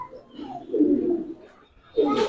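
Male Giribaz pigeon cooing at close range, with a low, throaty coo that swells and fades, followed after a short pause by a second brief coo.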